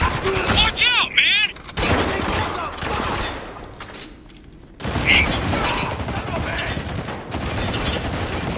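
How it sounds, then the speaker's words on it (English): Heavy, sustained gunfire in the video game Spec Ops The Line, with dense overlapping shots and bursts. It drops off briefly around four seconds and then resumes loudly, with shouting voices mixed into the chaos. "We're taking some heavy fire here!"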